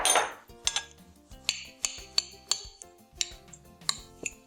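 Salt being stirred into peanut butter cookie dough in a bowl, a series of sharp metallic clinks and taps from a utensil against the dish, about a dozen irregular strikes, close and fairly quiet, no talking.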